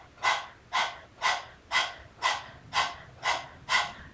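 A person imitates a panting dog with eight evenly spaced, breathy exhalations, each a short rushing puff close to the microphone, in a steady rhythm like a yoga breath-of-fire exercise.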